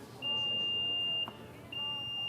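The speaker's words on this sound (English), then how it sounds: "You press in on this power tailgate button until you hear a beep." A single steady electronic beep from a 2023 Mitsubishi Outlander PHEV power tailgate confirms the height setting. It sounds for about a second, stops briefly, then comes back clear and sustained over a quiet background.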